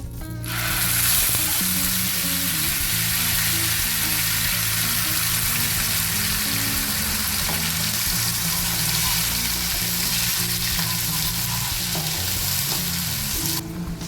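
Ground spice paste from a mixer frying in hot oil over fenugreek seeds, a dense, loud and continuous sizzle from start to finish with faint stirring underneath; no voices.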